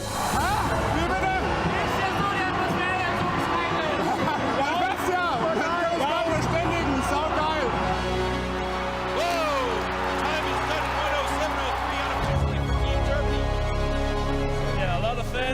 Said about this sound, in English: the crowd goes bananas